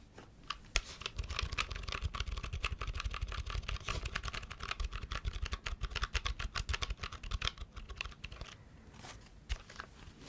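Rapid, continuous typing on a Pokémon-themed keyboard, dense clacking keystrokes close up for about ten seconds, briefly thinning near the end, with no voices.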